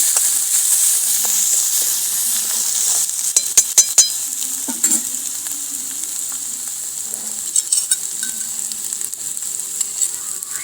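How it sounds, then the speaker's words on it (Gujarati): Ginger, chili and garlic paste sautéing in a pan, a steady close sizzle with occasional clinks and scrapes of a stirring utensil against the pan. "આદુ મરચાં લસણની પેસ્ટ, સરસ રીતે આપણે સાતળી લઈશું આ પેસ્ટને"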